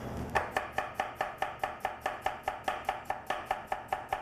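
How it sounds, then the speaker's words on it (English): A sharp knife chops shallots on a cutting board for a red wine vinegar and Dijon vinaigrette, with about eighteen quick, even strokes in a steady rhythm, close and clear, with no talking. "Take a few of these, we're going to chop them up slightly"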